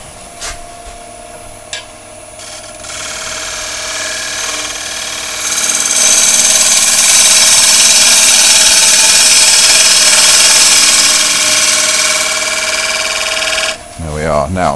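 A sharp chisel cuts into a wooden bowl on a lathe, a loud, continuous rasping hiss that swells after a few seconds and stops abruptly near the end, with talk at the start.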